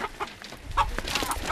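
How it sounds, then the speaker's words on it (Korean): A chicken clucks and squawks loudly and close while being caught by several men in a Himalayan village in Nepal, with agitated bursts over a scuffling background. "그 닭을 잡냐고 좀 난리가 났어요"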